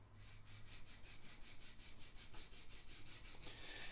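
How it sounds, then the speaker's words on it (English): 180 grit sandpaper rubs back and forth over a plastic part on a Vangoa 12-string acoustic-electric guitar, a steady rhythmic rasping of about fifteen close strokes with no talk. "because this is just plastic, it doesn't really wear out your sandpaper. This is 180 grit sandpaper"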